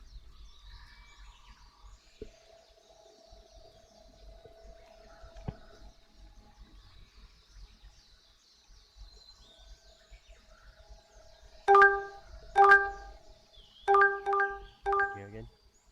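Sparse bird chirps in a calm virtual world, a few faint tweets early, then a cluster of louder, clearer chirps near the end over quiet background.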